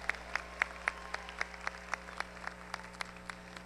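Sparse, quiet clapping from a small audience at a national Italian music festival award ceremony, crisp individual claps in a steady rhythm about four per second, slightly distant.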